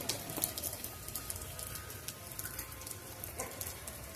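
Hail falls steadily during a hailstorm, a dense, continuous patter of ice pellets striking surfaces, with occasional sharper nearby impacts and no talking.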